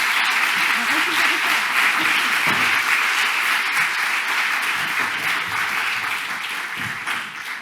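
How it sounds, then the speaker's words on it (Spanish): Sustained audience applause at a panel debate session of an anniversary event, steady and dense throughout, tapering slightly near the end with a faint voice underneath. "Podéis aplaudir"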